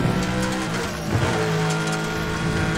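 A race car in Need for Speed The Run speeds through the Rockies stage with a continuous engine roar and rushing road noise, shifting pitch as it drives, with no talking.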